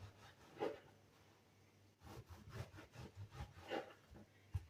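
A knife saws diagonally through a bread loaf for bruschetta, with a series of quiet, rhythmic rasping strokes heard up close that grow busier in the second half.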